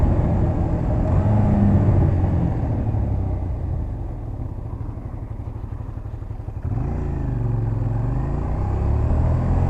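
Motorcycle engine running through quick-shift gear changes while downshifting, a steady rumbling drone that dips in pitch midway and then climbs again with an abrupt change in engine note, close and loud with no talking.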